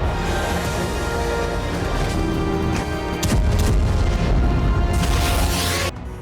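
Loud, dense booming blasts from Russian strikes in Ukraine rumble continuously, with a heavier surge of explosive noise midway before the roar drops off near the end.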